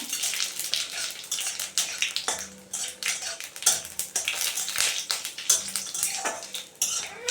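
Whole white cumin, torn bay leaf and dried red chillies crackle in hot oil, tempering a curry of drumsticks, green banana and snakehead fish. A steady close sizzle runs throughout with sharp metallic clinks from a pan and utensil.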